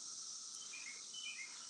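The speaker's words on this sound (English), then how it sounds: "The cicadas are out in full force up here" Cicadas outdoors give off a steady, dense, high-pitched buzz that holds evenly throughout, with faint chirps above it.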